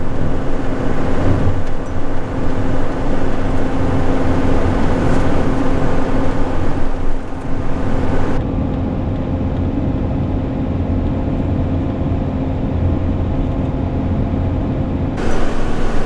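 A 12-valve diesel truck climbs the Dome Valley Pass near Yuma, its engine a loud, continuous low drone with road noise that changes tone partway through but stays steady.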